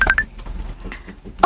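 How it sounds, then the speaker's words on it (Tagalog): A cellphone gives off short electronic keypad-style tones, a quick cluster at the start and another burst at the very end, with a quiet gap between. "Oh, may tingog yung mga cellphone"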